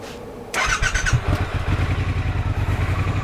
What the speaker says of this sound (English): Haven't started the bike for a while.